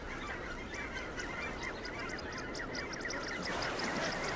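A flock of geese honks continuously over a windy estuary, many overlapping calls at moderate distance over a steady rushing wind-like background.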